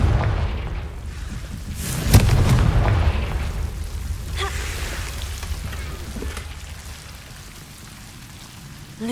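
Confringo fire spells from the Hogwarts Legacy video game burst in several booming explosions over a rumbling, rain-like game background, with the biggest blast near the start.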